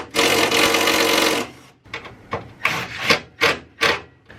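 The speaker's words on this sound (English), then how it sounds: "So I'm gonna go ahead and unscrew that really quick" A T40 bit works a bolt loose on a BMW F30 335i during an intake install, giving a long grinding ratchet-like rasp followed by five short, separate scraping turns.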